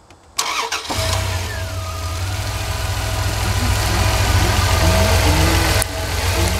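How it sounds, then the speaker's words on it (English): A 1999 Dodge van engine cranks and catches, then settles into a steady, even idle after a tune-up with fresh spark plugs, loud and close with a low rumble and no talking. "That sounds like she's firing on all cylinders."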